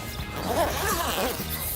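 A zipper runs around a small carry case for a multi-system ECU scan tool, a quick rasping zip in short strokes, close and fairly clear over light background noise.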